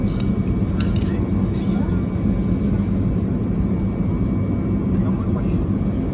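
Steady airplane engine drone from a played video, a continuous broadband roar holding loud and even throughout, with a few faint clinks and bits of background chatter mixed in.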